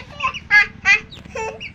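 Backyard pet chickens cluck close by in a few short, sharp bursts, loud and distinct against a quiet background.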